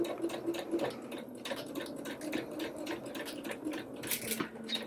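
A sewing machine runs steadily, stitching the side seam of a fit-and-flare doll dress, with a close, continuous rapid needle patter and a few brief changes in pace.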